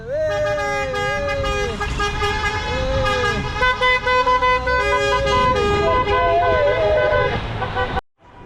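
Car horns in heavy traffic on an Istanbul bridge, with many loud, overlapping toots and held honks sounding near and all through, over a rumble of engines, then a sudden cut near the end.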